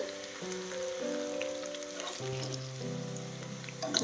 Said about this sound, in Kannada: ಇವಾಗ ಚಂದ ಫ್ರೈ ಆಗ್ಯಾವ ನೋಡ್ರಿ